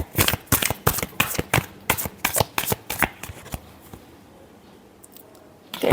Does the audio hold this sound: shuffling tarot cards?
yes